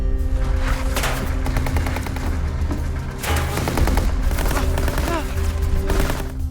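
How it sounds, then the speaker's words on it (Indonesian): Rapid gunfire from a war film scene with German troops attacking, bursts of shots crackling continuously over a dense rumbling battle backdrop, loud and close with no pauses. "Magne dan Presnes terjebak di tengah baku tembak"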